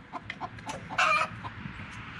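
A chicken or rooster clucks and calls in the early morning, with several short calls and one louder burst over a steady low background rumble.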